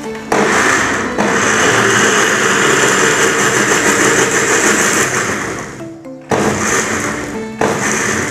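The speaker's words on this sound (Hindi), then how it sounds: "अभी मैं मिक्सर के ऊपर ढक लगा के इसे धीरे धीरे पीसूंगा।" Kitchen mixer grinder blending pomegranate seeds for juice at low speed, a loud continuous whirring motor drone that cuts off briefly twice and restarts, running alone without talk.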